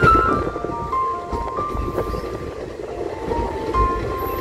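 Silchar Express easing slowly into New Bongaigaon station in Assam, a low rolling rumble of carriages with faint squealing tones from wheels and brakes, heard from inside the train.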